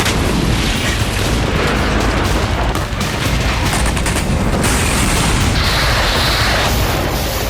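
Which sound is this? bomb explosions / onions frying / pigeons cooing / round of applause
bomb explosions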